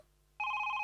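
A new touchscreen phone given as an office joining gift rings after a near-silent start, a steady two-tone electronic ringing that is loud, close and continuous, ending in a brief burst of noise.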